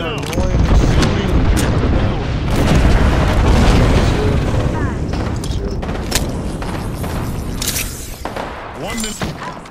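A missile explosion in Apex Legends: heavy booms and blasts, loud and close, with rumbling gunfire and scattered impacts across a chaotic battle.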